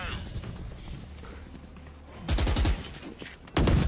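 Gunshots from a Valorant match, two loud broadband bursts of rapid fire standing out after a stretch of quieter game noise and low rumble, the second burst cut off at the end.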